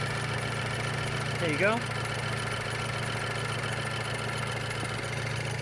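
A Ford radiator cooling fan whirs with the engine idling, making a steady low drone and hum that stays constant throughout, with a short spoken remark near the middle.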